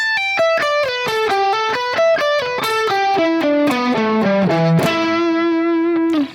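Electric guitar with heavy distortion playing a minor pentatonic lick, a fast run of separate notes stepping downward before landing on a sustained final note, loud and close, with no talking.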